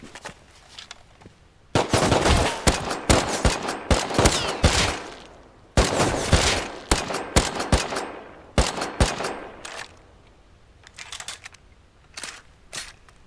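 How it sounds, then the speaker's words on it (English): Rapid bursts of automatic gunfire in the video game Rust crackle in dense volleys, pausing briefly between clusters, with scattered single shots trailing off toward the end. "if the gunfire is too loud"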